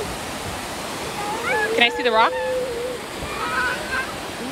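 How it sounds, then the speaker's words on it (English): A mountain waterfall rushes as a constant broadband roar in the background, while a child and an adult talk over it. "You like the waterfall"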